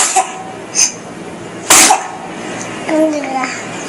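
A child's sneeze bursts out sharply in the middle, with brief vocal sounds before and a short child-like utterance near the end against a quiet room background.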